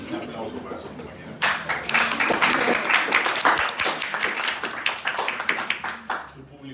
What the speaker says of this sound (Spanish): Un aplauso para su compañera.